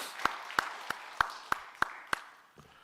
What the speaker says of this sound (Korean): 우리 하나님께 영광의 박수 한번 드리겠습니다